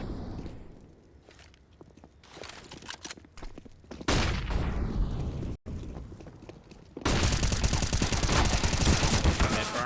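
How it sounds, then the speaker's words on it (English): Tech-9 pistol fire in a Counter-Strike match on the Vertigo map, with sparse game sounds and footsteps building to dense, loud bursts of rapid gunfire that fill the second half. "Hex, though, with the Tech 9 opening things up, getting a bomb plant at least."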